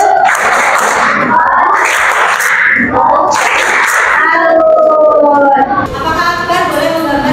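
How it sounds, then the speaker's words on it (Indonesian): A classroom of students performs a tepuk salut clapping chant, loud rhythmic bursts of group voices and claps in several phrases, followed by a sung or chanted passage. "Tepuk salut."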